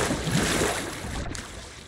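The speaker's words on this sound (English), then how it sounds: "I hear water." Rushing, splashing water fills a sea-faring pirate video game, Sea of Thieves, as a steady broadband wash of waves and surf with gentle swells. The sound is moderately loud and continuous throughout, with no speech.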